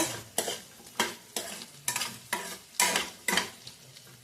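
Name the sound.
potatoes frying in oil in a pan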